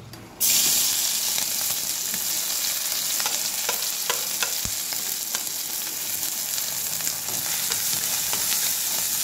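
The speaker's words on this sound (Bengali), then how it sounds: "একটুখানি ভেজে নেবো এটা।" Ginger, garlic and green chilli sizzle and fry steadily in hot oil in a village-style kitchen, a continuous loud crackle with small pops and occasional stirring clinks throughout, no talking.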